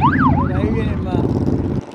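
An ambulance siren passing on a road in Puerto Rico during a round-the-island ride wails in rapid up-and-down sweeps, loud and close, then fades under traffic rumble and muffled voices before cutting off.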